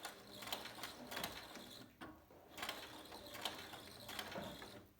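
A domestic sewing machine runs in short mechanical bursts, stitching a seam with a few forward stitches and a small back-and-forth on a drawstring mug pouch with French seams, steady whirring and clicking close by with no talk.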